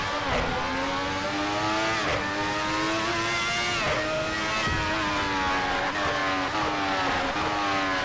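A Ferrari 412 T2 V12 race car on the Imola circuit screams close up, its high engine note climbing through repeated gear changes in a steady, loud in-car rhythm with short dips between shifts.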